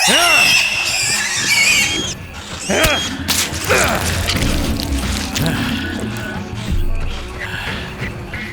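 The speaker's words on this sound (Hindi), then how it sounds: "सुअर चीख रहा है" A pig squeals shrilly in a tense action scene, with harsh rising cries mixed among clattering, mechanical noise and loud voices talking over it.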